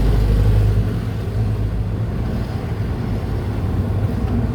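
Isuzu 4BC2 diesel engine idling with an unsteady idle, a loud low rumbling drone that runs continuously and close throughout with no speech over it.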